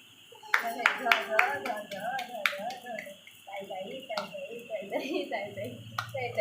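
Sharp claps or snaps ring out several times in a loose rhythm over a sung or chanted voice, followed by a few more scattered claps.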